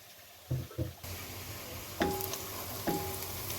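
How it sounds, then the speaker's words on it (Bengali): Whole garam masala spices dropped into hot oil for Old Dhaka-style tehari give a quiet, soft sizzle broken by a few brief clinks and stirring bursts. "গরম মশলাগুলো দিয়ে দিচ্ছি।"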